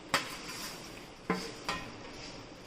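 Puffed rice mixed with chili powder, peanuts and roasted chana dal in a pan with the stove switched off, a spoon giving a few crisp scrapes and knocks against the metal over a soft rustle.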